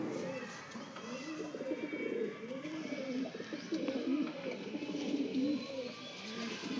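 Giribaz pigeons, including a white-headed bird, coo in repeated low, throaty rolls close by, steady and continuous with faint background noise.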